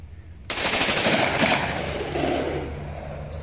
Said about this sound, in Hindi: इस बटन से करते हैं ब्रस्ट फायर